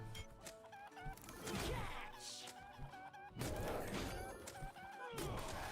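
Chickens cluck and squawk among clattering combat hits in a dungeon video game, a busy, loud mix with a shouting voice in places.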